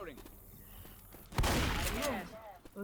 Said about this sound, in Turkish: Tek atıyormuş bu arada bu. Pompalı tüfek.